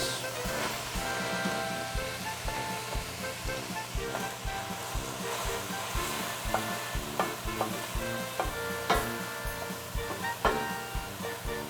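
Onions and mushrooms sauté in a pan with a dense, steady sizzle and repeated stirring scrapes, close and continuous throughout, with no voices.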